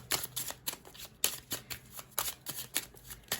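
Tarot cards being shuffled and drawn, a run of crisp riffling bursts and soft flicks in quick irregular succession, close and fairly quiet with no voice over them.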